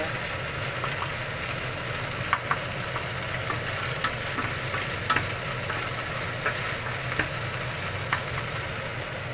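Beef steak frying in a pan of oil with dark and light soy sauce, a steady loud sizzle with scattered sharp pops and splatters throughout, no talking.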